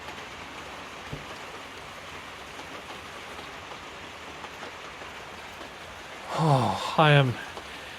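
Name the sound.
rain falling on a roof under construction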